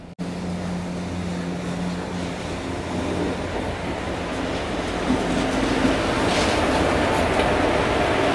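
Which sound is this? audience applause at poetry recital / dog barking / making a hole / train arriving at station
train arriving at station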